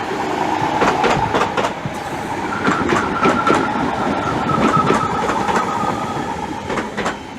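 A London Overground class 315 electric train pulls into Bethnal Green station with loud, close rhythmic clickety-clack of wheels over rail joints and a rumbling carriage roar throughout.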